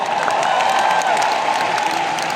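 A concert crowd at the O2 Arena in Prague applauds and cheers, a steady, far-off roar of clapping and voices that holds level for the whole moment.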